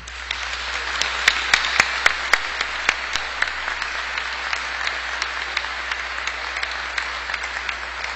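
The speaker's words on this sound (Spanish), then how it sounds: "les expresemos este agradecimiento dándole un fuerte aplauso." Congregation clapping in a cathedral during a Chrism Mass, a loud sustained round of applause with a few sharp individual claps standing out early, echoing in the large space.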